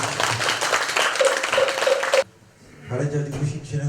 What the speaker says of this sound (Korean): 여러분께 다시 한번 큰 박수 올려주십시오